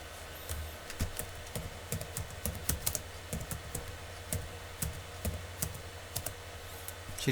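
Product details tapped out on a computer keyboard in quick, irregular bursts of close, crisp clicks with short pauses, under a steady low hum and no talking.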